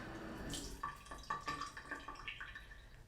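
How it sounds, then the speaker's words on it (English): Water from a tap runs and drips onto a small cloth being dampened, with soft, close splashes and trickles and no voices. "I have just a little cloth here that I'm gonna dampen"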